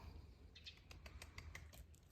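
Bright, brief chirps from small birds outdoors on a cool spring morning, scattered and somewhat distant, over a low background rumble.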